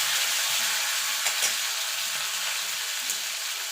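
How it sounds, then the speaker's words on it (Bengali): Two chopped tomatoes fry and get stirred in a spiced oil tempering for tomato masoor dal, a steady close sizzle with a few soft spatula scrapes and no talking. "টমেটোটাকে একটুখানি নাড়াচাড়া করে নেব।"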